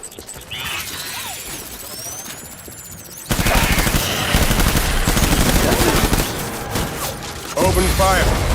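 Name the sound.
gunfire from a video game, Death Stranding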